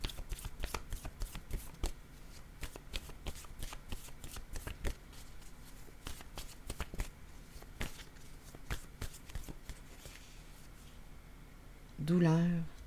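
Word cards handled and shuffled in a steady run of rapid close snaps and soft rustles, continuing for several seconds before a brief voice breaks in at the end.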